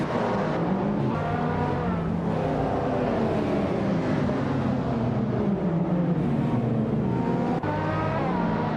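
Race cars, including a 1995 BMW M5 E39, launching off the starting line in a racing video game, several engines roaring and revving together in a dense, continuous drone, close and loud, without talk.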